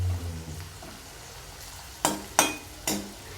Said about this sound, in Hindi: तो देखिए गाजर को हमने चला चला के अच्छे से फ्राई कर लिया।